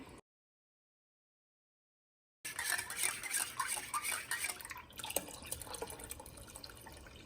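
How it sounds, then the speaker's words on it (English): Coconut milk cans are rinsed out with water for a noodle soup, a short silence, then running water splashing and clattering inside the metal cans at close range. "save the cans because we are going to rinse these out with water"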